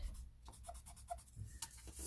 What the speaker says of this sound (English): take a good white eraser. This pencil has a white eraser on it, so it should erase nice and clean.